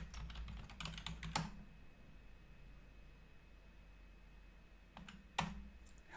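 Typing on a computer keyboard during a command-line login: a quick cluster of close key clicks, a quiet pause with faint background hiss, then a few more keystrokes near the end.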